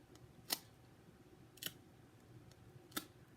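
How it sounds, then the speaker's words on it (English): A packing tape machine's cutter snaps three times, each a sharp, crisp click spaced about a second apart against a quiet room, close and moderately loud. "Running the packing tape machine, gizmo, whatever that is, the handle,"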